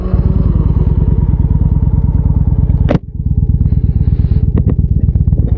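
A motorcycle being ridden gives a loud, close, steady pulsing engine throb, broken by a single sharp thump midway before the rhythmic exhaust beat carries on.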